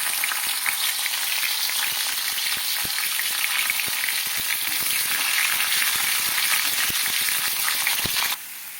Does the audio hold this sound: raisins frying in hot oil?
yes